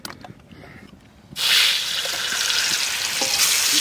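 Potatoes dropped into hot mustard oil in a wok at an outdoor village picnic: after quiet rustling, a loud sizzling rush bursts in and carries on as a steady close hiss.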